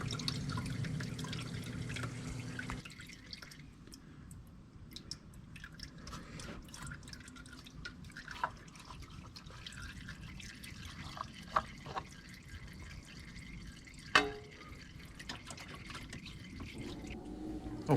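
Oil drips quietly from the filter area of a BMW R 1250 RT motorcycle during an oil change, with faint, irregular drops and a few sharper splats over a low, hushed background.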